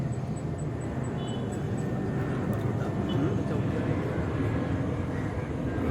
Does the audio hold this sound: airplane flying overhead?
yes